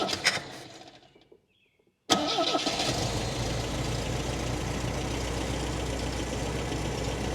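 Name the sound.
MGB car engine starting and idling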